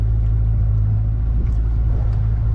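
Yamaha F50 outboard motor on a Smokercraft 15 Resorter boat running in gear, a loud, steady low drone with constant rumble and no talking.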